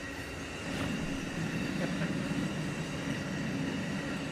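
An Amtrak freight train carrying cattle or horses rolls past at a distance, a steady low rumble with faint wheel squeal and rattling cars, holding even for several seconds.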